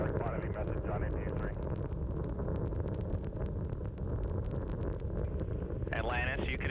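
Space Shuttle Atlantis main engines roaring at launch on mission STS-86: a steady, dense broadband rumble that runs throughout, with radio voices talking over it.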